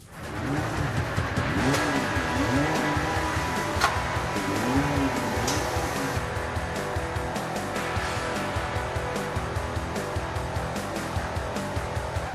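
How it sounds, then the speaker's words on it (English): A Nissan 350Z rumbles and revs with a wavering engine note as it is driven onto a dyno, loud and close, with occasional sharp clicks over the steady drone. "So let's roll it up onto the dyno and get started."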